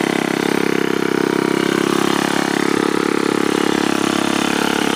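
A Ryobi S430 string trimmer's small two-stroke engine is held at high revs, with a loud, steady buzzing drone and a slight rise and dip in pitch, heard alone and up close.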